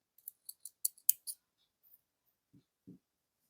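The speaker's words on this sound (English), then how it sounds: "let us first cut off the tail" Scissors snip off the tail of a beading thread for beaded earrings, giving a quick run of sharp, close clicks followed by a couple of soft, muffled taps.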